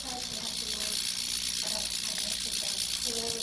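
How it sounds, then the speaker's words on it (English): An ultrasonic cleaner filled with hot soapy water runs with a steady high-pitched whine and a faint rattling buzz, close and continuous, with no talk over it. "An ultrasonic cleaner is a bit of hot soapy water that vibrates with sound waves"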